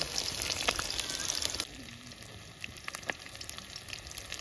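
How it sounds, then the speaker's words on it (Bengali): Fish frying crisp in a pan of oil at an outdoor family picnic: a steady close sizzle that drops to a quieter crackle midway, with scattered pops and spatula scrapes, no talk. "মাছ কড়া করে ভাজা হয়েছে"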